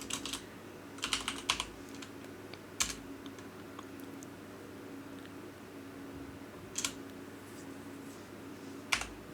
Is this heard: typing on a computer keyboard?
yes